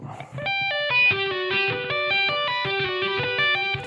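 Distorted electric guitar plays a fast metal-solo tapping lick, a steady, rapid run of bright, sustained notes stepping down and back up, loud and close with no voices.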